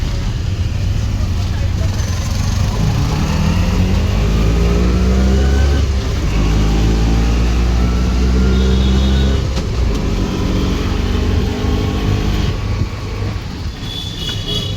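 An auto-rickshaw engine drones loud and steady during a ride toward Vagheshwari Hills, its low hum rising and falling with the throttle alongside constant road rumble for the whole stretch.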